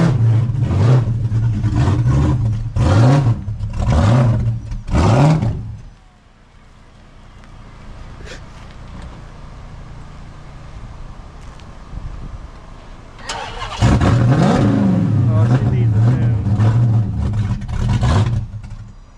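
A Hemi 5.7 V8 in a Pursuit Magnum fitted with a TSP Warthog camshaft and 392 intake revs loudly in repeated bursts, drops to a rough, lopey idle for several seconds, then revs hard again.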